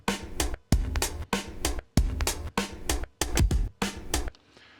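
A chopped breakbeat played back on an Ableton Move groove box, its punchy drum hits firing in short repeated bursts with brief gaps between, loud and dry, with no voices before the pattern cuts off.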